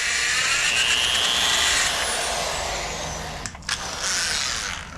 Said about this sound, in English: Use as small of a drill bit as I can, all the way up to 17/32 to try and get a piloting effect.